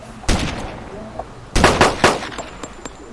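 Gunshots ring out in the military video game ARMA II Operation Arrowhead: one loud sharp report, then after a pause a tight cluster of three heavy shots with echoing tails, followed by faint distant pops.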